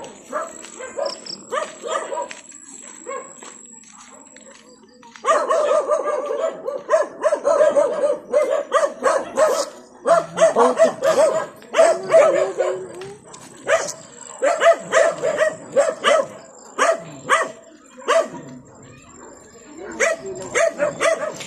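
Dogs bark repeatedly outdoors in bursts of loud, close barks and yips, busier after the first few seconds, with a faint voice in places.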